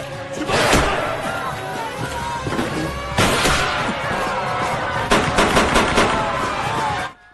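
Gunfire in an action scene from the Jackie Chan film New Police Story: loud, sharp shots in several bursts over about seven seconds, with crashing impacts among them.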